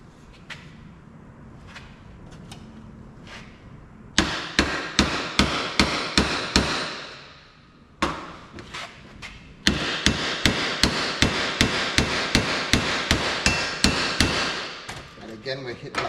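Repeated sharp hammer blows drive a universal joint cap into the yoke of a Holden Torana tail shaft, struck on a socket. Two runs of evenly spaced, loud, close metallic strikes, separated by a short pause.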